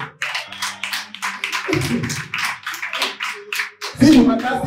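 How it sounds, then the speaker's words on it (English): Audience applause for a family with quadruplets, rhythmic rapid clapping from a small group, fairly close, with people talking over it throughout. "Let's give the round of applause."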